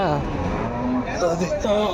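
Dairy cows, Jersey and HF, lowing at a busy weekly cattle market in Palamaner, with drawn-out moos rising over steady nearby talk and crowd chatter.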